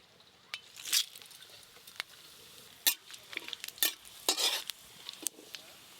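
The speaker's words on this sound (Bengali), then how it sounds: "গোটা জিরে আর শুকনো লঙ্কা ফোড়নে দেব।" Bay leaf, whole cumin and dried red chilies dropped into hot mustard oil for khichdi tempering, giving soft sizzling with scattered sharp crackles and stirring clinks, close and fairly quiet, with no talking.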